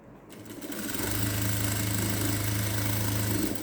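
A sewing machine double-stitching a blouse, its motor spinning up into a steady, close, humming run of rapid stitching that lasts about three seconds.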